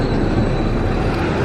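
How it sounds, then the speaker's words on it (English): A tram in Edinburgh rumbles past with a steady low roar and rail hiss, loud and continuous throughout. "There's a train coming."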